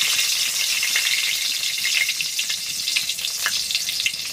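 Dry red chillies hit hot oil in a pan for tempering and sizzle loudly and continuously, a bright crackling hiss with small pops throughout, up close with no talking.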